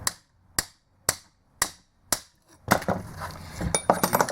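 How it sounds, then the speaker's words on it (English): Five sharp, evenly spaced metallic taps ring out close by, a hammer striking a chisel against the back of a Volkswagen Group car alternator, followed by a clattering rustle of handling noise. "just give the back part a few taps with the hammer."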